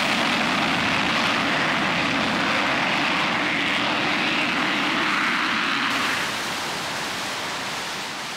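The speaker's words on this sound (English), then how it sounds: "Take the engine up to full power, flick the switch marked AB, and your fuel tank empties into the jet pipe." A J-57 jet engine roars at full power with its afterburner lit, a loud, steady broadband rush that holds for several seconds before easing slightly toward the end.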